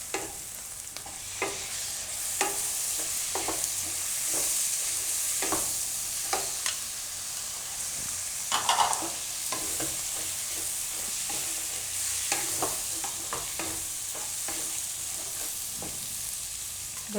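Tomatoes and spices sizzling in a hot pan for palak paneer bhurji, with steady frying hiss and repeated spoon scrapes and stirring clicks throughout, close and alone without talk.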